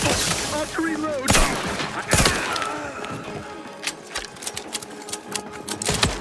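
Gunfire during a fight in the video game The Outer Worlds 2, with several sharp loud shots and bursts scattered through a busy game soundscape of music and effects.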